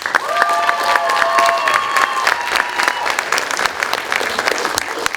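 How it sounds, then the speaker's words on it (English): Audience applause for high school spoken word artists at a student writing celebration, a loud, dense clapping crowd filling the whole stretch, with some cheering and a few voices mixed in. "And one more round of applause for our spoken word artists."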